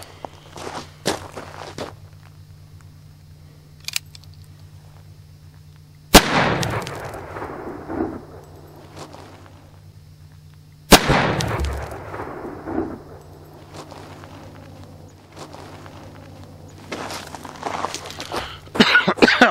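An 1858 Remington cap and ball revolver and a Ruger .44 Magnum revolver are fired at cinder blocks outdoors, two loud, sharp blasts several seconds apart, with footsteps, shuffling and clatter in between.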